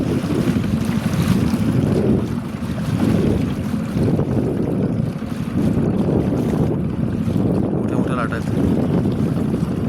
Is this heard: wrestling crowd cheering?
no